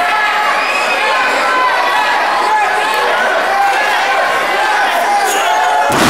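A wrestling crowd at a championship cage match reacts loudly to a hard chop, with a steady wash of cheering, shouting and chatter that stays dense and close throughout, ending in a sudden thump.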